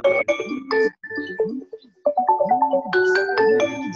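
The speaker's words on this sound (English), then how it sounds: "Kindly mute your phone." Mobile phone ringing during a lecture: a melodic electronic ringtone of rising and falling tones, repeating in short phrases, clear and fairly loud.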